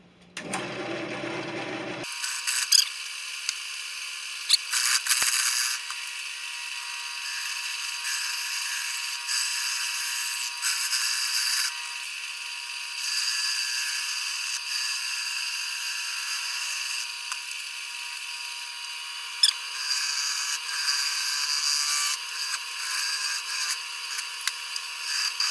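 A wood lathe spins a chestnut oak crotch bowl at about 600 RPM while a 5/8 gouge cuts it, giving a steady, close, high-pitched hissing scrape with small rattling bumps that runs continuously after a brief start.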